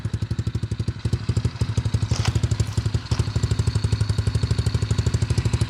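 Cheap Chinese 110cc dirt bike engine idling while it warms up, a loud, close, steady rapid putter with even firing pulses and a slight mechanical clatter, alone without talking.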